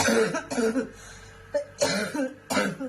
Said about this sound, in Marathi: हा तर खोकला पण आहे मला